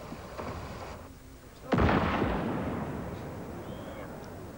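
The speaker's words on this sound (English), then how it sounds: "Rather than move some of the explosives, the decision was taken to destroy them." A controlled detonation of terrorist explosives on Five Finger Strand beach, Ireland, by the Irish Army: a single sudden loud blast with a long rumbling decay, heard at a distance over steady background noise.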